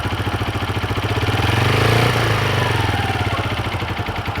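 A motorcycle engine idles nearby with a steady, loud putter, then takes a gentle touch of throttle that briefly raises the revs before settling back to idle.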